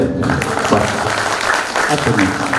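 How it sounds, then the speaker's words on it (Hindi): Audience applause at a Hindi poetry gathering (kavi sammelan), a dense, steady clapping wash filling the short stretch at fairly loud level, with voices mixed in beneath it. "ताली बजा दो मेरे"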